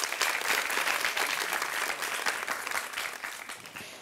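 Sustained applause from a studio audience at a televised quiz show, many hands clapping in a dense, steady wash that fades slightly toward the end, with no talking over it.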